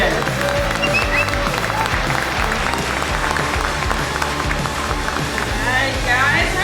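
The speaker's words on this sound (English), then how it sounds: "clap one more time, twice as loud for Laura Austin" Loud, dense audience applause fills a comedy roast event, a steady wash of clapping hands with some crowd noise and faint voices mixed in throughout.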